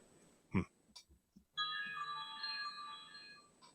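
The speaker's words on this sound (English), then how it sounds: "Oh, little phone. You're getting a call right now, believe it or not." A cell phone ringtone for an incoming call plays a bright, steady electronic melody. It begins after a few short knocks and continues unbroken and fairly clear to the end.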